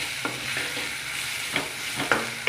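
Onions fry with ginger paste and salt for chicken biryani, a soft continuous sizzle broken by several scraping stirs of a spoon in the pan.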